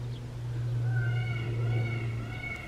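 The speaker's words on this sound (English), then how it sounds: "That noise in the background is a peacock." A peacock calls in the background on a coastal walk in Guernsey, a single drawn-out wailing cry, moderately loud, over a low steady hum.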